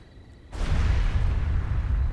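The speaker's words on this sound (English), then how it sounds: "What was that explosion? It came from the villa." An explosion at a villa in the video game Trails through Daybreak 2 bursts in suddenly after a quiet moment, then a heavy, sustained rumbling roar with deep low-end weight.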